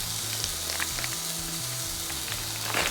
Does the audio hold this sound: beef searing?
yes